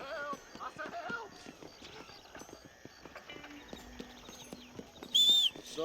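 Hoofbeats of a horse in the video game Red Dead Redemption patter in a quick galloping rhythm, moderately near, while voices call out over them and a sharp whistle-like tone cuts in near the end.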